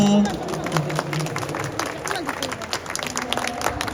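An audience at a promotional event in Frankfurt claps together, a moderate, steady patter of applause mixed with murmuring voices and someone speaking over it.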